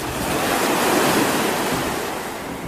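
Raging sea waves in a stormy ocean, a loud, continuous roar of churning surf and wind that swells slightly and stays close throughout, with no voices.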